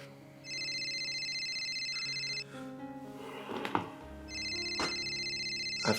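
A telephone rings in two electronic bursts with a pause between them, mixed with clattering movement and a low background hum.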